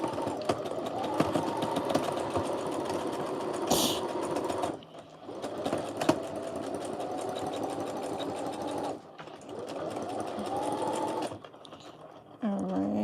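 A sewing machine stitches a dart on a dress in steady bursts, its close mechanical whir running several seconds at a time and broken by brief pauses between runs, with no talk over it.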